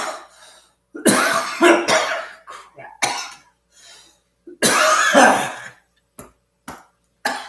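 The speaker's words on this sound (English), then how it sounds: "I cough phlegm up" Several loud, close coughs in bursts, some harsh and drawn out, with short pauses and breaths between them.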